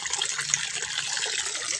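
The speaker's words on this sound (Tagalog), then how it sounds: "Buksan po natin yung tubig." Water gushing from a newly installed, temporarily fitted faucet fed by a Jetmatic electric pump, a steady, close rushing stream that holds constant throughout.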